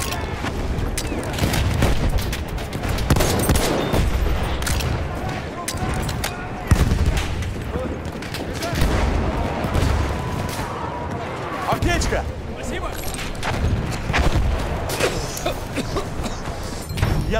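Enemy machine gun fire rattles in dense bursts during an intense Battlefield 1 battle, loud and near, mixed with explosions and other gunfire. Soldiers shout over the din throughout.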